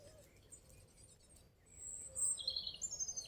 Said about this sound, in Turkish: Şurada kızıl kızıl gerdan kuşu var arkadaşlar.